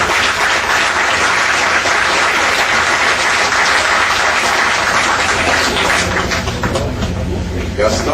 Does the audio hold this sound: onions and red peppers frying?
no